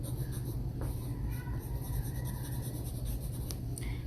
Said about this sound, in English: So, Let's first write our name up top.